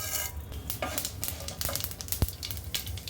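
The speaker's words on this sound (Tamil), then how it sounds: "எண்ணெய் சூடானதுக்கப்புறம் இதில் கடுகு" Mustard seeds and urad dal sputter in hot oil in a kadai, with a close, crackling sizzle, scattered pops and a metallic tap of a utensil against the pan, and no talking.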